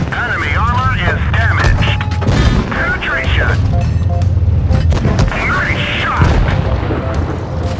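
Tank cannon fire in a tank video game, with heavy booms and mechanical clanks sounding in bursts under continuous Thai-language commentary.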